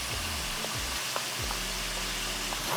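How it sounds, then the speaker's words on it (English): Bourbon and local organic honey glaze for carrots simmering in a pan, giving a soft, steady sizzle with a few light stirring scrapes and occasional low knocks, fairly quiet and close. "Give that a stir."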